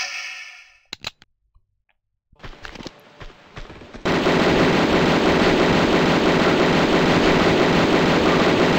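Gunfire in the video game Tomb Raider 2, with a few sharp isolated shots early on, then a dense, loud, continuous burst of automatic fire that runs to the end, with no talking.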